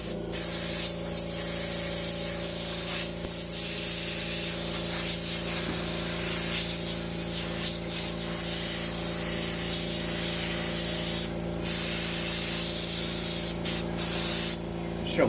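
An airbrush sprays paint onto a crop top t-shirt through stencils, a steady close hiss lasting the whole stretch with brief pauses and bursts near the end over a constant low hum.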